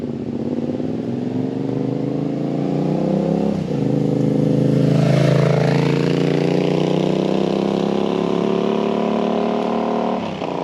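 Yamaha Tenere 700 adventure motorcycle engine and exhaust, revving steadily with a rising, throaty note that swells mid-clip and drops briefly near the end, loud and close with no talk.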